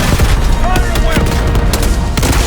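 Rapid bursts of automatic gunfire and booming shots from a Call of Duty Black Ops 6 firefight, loud and close, with dense overlapping reports and faint battle noise throughout.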